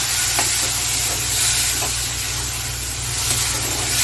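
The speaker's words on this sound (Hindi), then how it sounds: "प्याज थोड़ी नरम हो जाएंगी, हल्की गुलाबी रंग की हो जाएंगी, फिर उसमें जो है चना डाल देंगे" Chickpeas stirred into softened, lightly browned onions frying in a pan, a steady sizzle with scraping stir sounds throughout over a low background hum.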